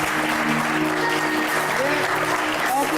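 A studio audience claps continuously for a performer on a television show set, a steady, even wash of applause with faint tonal hum beneath.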